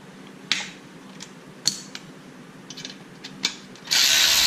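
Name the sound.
ratchet removing bottom bolts from pit bike engine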